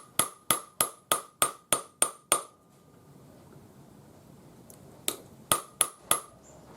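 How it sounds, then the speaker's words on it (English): Rapid metallic hammer taps texturing a balled wire ring, eight quick ringing strikes, a pause of faint background noise, then a few more strikes close up. "look at your piece as you're hammering and make sure that you've covered the whole area"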